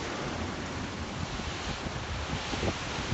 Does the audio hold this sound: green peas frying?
no